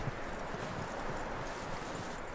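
A horse in the video game Red Dead Redemption 2 trots along, its hooves giving a soft, rhythmic clip-clop that stays faint and fairly distant under a steady wash of background ambience.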